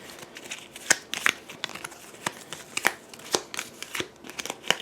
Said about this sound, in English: we're going to shuffle it